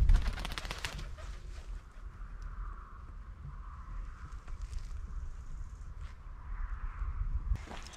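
A pigeon bursts from cover in a currant field in the Spessart nature park, its wings clattering loudly for about a second before it flaps away, leaving steady wind and faint outdoor hiss.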